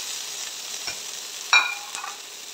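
A tomato dropped into a frying pan and stirred while preparing paneer tahari, a soft continuous sizzle with a short sharp scrape or clatter midway and light stirring sounds after, close and alone.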